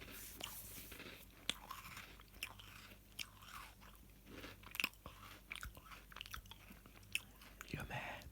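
A biscuit is bitten and chewed close to the microphone, with repeated soft crunches and mouth sounds at an irregular rhythm over a faint hiss, no talking.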